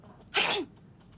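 A single short, sharp sneeze from a mobile video game, close and clear, standing alone against a quiet background.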